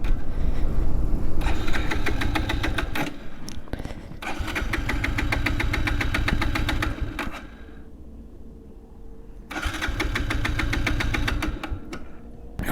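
Bajaj Pulsar 180 motorcycle idling close by in a steady pulsing chug, broken by short dips where it nearly cuts out, with a quieter gap near the end before the engine picks back up.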